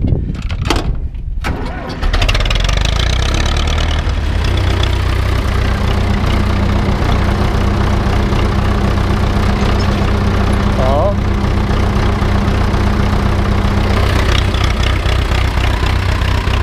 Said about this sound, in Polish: Odpalimy traktor, panie.